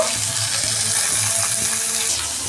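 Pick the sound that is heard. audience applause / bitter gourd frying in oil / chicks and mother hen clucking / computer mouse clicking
bitter gourd frying in oil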